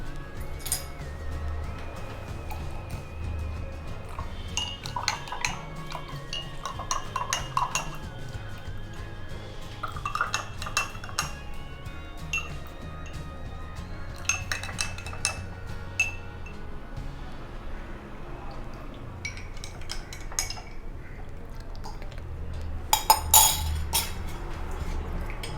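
A spoon clinks repeatedly against a glass as rose syrup is stirred into boiled, cooled milk. The light chinks come in quick clusters over a soft, steady background.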